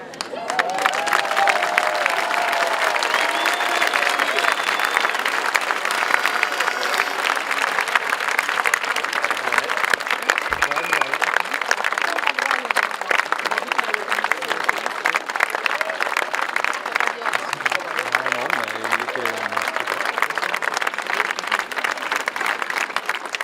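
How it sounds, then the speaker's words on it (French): Sustained crowd applause at an outdoor rally on the Esplanade in Nîmes, a dense, steady wash of many hands clapping with some cheering, loud and continuous throughout with faint voices underneath. "je vous propose de les applaudir"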